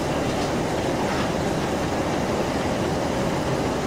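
Steam locomotive No.45596 Bahamas, running between Crewe and Holyhead, gives a loud, dense, continuous roar of engine and rolling wheels from the footplate, a steady broadband rumble with faint rhythmic beats.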